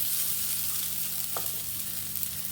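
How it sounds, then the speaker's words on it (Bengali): Banana flower and raisins sautéing in a pan for a vegetarian mocha ghonto, giving a steady soft frying hiss with one brief stir scrape partway through, alone with no talk. "দিয়ে আবার ভালো করে কষিয়ে নেব"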